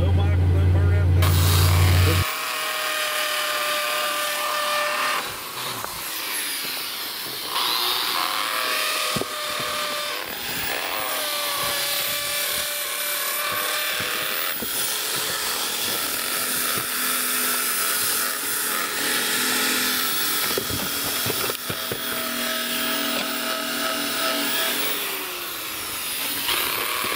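A whining power drill runs in bursts close by under a car in a garage, its pitch rising and falling, with mechanical clatter and voices talking around it.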